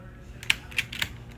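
A few quick clicky key taps on a computer keyboard, irregular and light, over a soft background hum.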